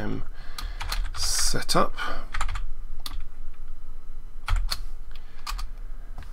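Someone typing on a computer keyboard while coding Python in Blender produces irregular bursts of clicky keystrokes, close and clear, under a man's speech.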